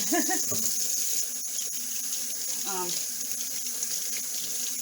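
Tap water runs steadily into a sink while large potatoes are rinsed, a continuous close hiss of flowing water with faint handling sounds and a brief voice underneath.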